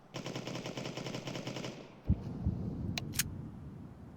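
Counter-Strike 2 gunfire: a dense, sustained burst of automatic fire ends abruptly, followed by a couple of heavy single shots and short sharp bursts over a busy game background.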